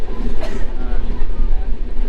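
Kanchankanya Express running toward New Mal Junction, a deep continuous rumble and rattle from inside the carriage, loud and steady, with a voice speaking over it.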